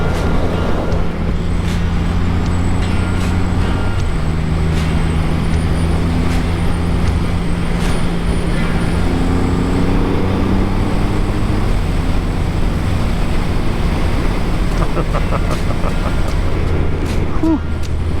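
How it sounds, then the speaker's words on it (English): Steady, loud wind roar and engine drone while riding a 2020 Triumph Rocket 3 GT motorcycle at speed with no windscreen, continuous throughout with no talking. "definitely more wind noise without having the windscreen on the front"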